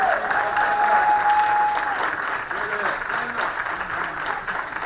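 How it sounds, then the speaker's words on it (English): Audience applause at a Selma town hall on restoring the Voting Rights Act, a sustained dense round of clapping from a large crowd with a few voices calling out over it. "Give them a round of applause."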